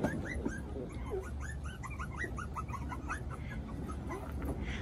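Puppies whimpering and yipping in a cluster, with many short, high cries overlapping continuously at fairly low volume, close by.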